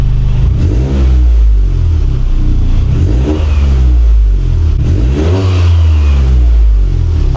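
Toyota GR Corolla engine revving hard in a series of sharp blips, each rising and then falling off as the throttle is released, loud and close with no talk over it.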